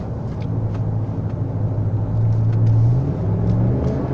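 A 2016 RAM 1500 BigHorn pickup with a 5.7 HEMI V8 and high mileage rumbles steadily while driving, its deep engine drone rising slightly midway, close and continuous with no talk.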